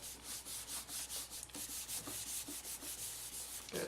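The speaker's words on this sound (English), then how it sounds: "Give it a good rub." Paper rubbed firmly against a stamped card to transfer ink, a steady rasping, scratchy back-and-forth rhythm of close, fairly quiet strokes lasting several seconds with no talking.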